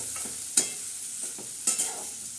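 Garlic and onion frying in oil while a spoon stirs them, steady sizzle under a few sharp scraping clacks against the pan, close and without talking.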